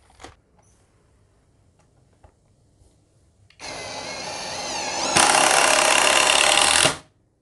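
A Kamolee 20 volt impact driver drives a screw into hard wood, a close, loud mechanical whir that starts abruptly, rises to a harsher, heavier hammering pitch partway through, then cuts off, after a few quiet clicks and taps.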